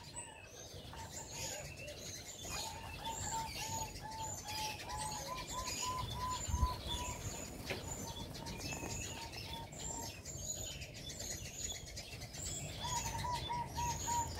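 Repeated soft cooing of turtle doves kept for singing contests, mixed with small bird chirps, steady and fairly close, over a low background rumble.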